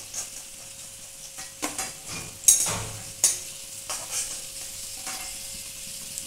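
Potatoes fry in a pan under a soft background sizzle. Intermittent scraping and clacking stir strokes come up close at an irregular rhythm.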